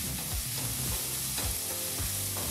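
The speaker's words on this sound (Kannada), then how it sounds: "ಈಗಿಲ್ಲಿ ಈರುಳ್ಳಿನ 2-3 ನಿಮಿಷ ಒಗ್ಗರಣೆ ಜೊತೆಗೆ ಫ್ರೈ ಮಾಡಾಯಿತು" Onions sizzle in a spiced tempering in a pan on low flame for a village-style pumpkin and field-bean upsaaru, a close steady frying hiss broken by the scrape and clatter of a spoon stirring at intervals.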